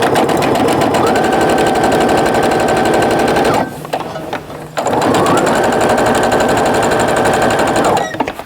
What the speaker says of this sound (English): I'm going to sew this seam first and then I can get my edges lined up and sew those second